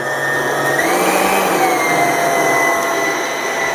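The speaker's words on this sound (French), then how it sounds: "La crème dans la cuve de mon batteur. Et c'est parti, on fait monter notre crème en chantilly." A stand mixer whips cream into chantilly for a mango-passion pavlova, running as a steady loud whir with a high motor whine that shifts pitch slightly, continuous and close throughout.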